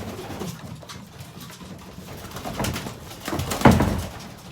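Racing pigeons coo in low, throaty bursts at feeding time, a soft flock murmur swelling to a louder close call, with no voices.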